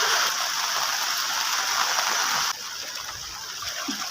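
Heavy monsoon rain in Konkan pours steadily onto a flooded road near a house, a dense continuous hiss with no clear breaks, dropping slightly in level partway through.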